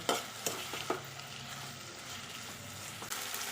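Taro stolons being stirred with a little sugar in a pan, a soft sizzle running throughout with a few scrapes of the spoon at the start and near the end, fairly faint with no talk.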